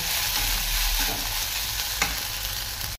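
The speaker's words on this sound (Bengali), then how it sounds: "এটা দিয়ে একটুখানি নাড়াচাড়া করব" Soaked sago pearls are stirred in a pan with fried raisins, a loud, continuous close frying hiss with a faint scrape midway.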